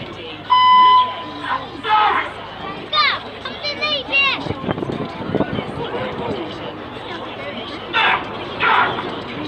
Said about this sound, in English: the beeps you can hear are not the pilot swearing. It is in fact red 6 pressing a tone button